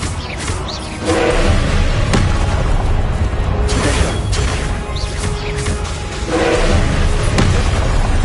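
Blasting-spell explosions in Hogwarts Legacy: loud, booming impacts landing repeatedly over a constant rumbling game background, with no speech.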